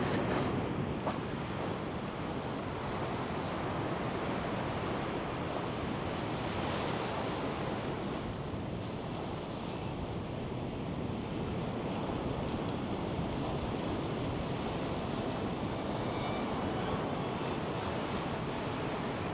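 Waves washing onto the beach at Porth Nobla on Anglesey, a continuous, moderately quiet surf roar mixed with light wind, no voices.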